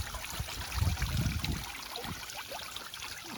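Water from a small backyard pond waterfall, fed by a 300 GPH pump, trickling and babbling steadily up close with a continuous gurgling wash.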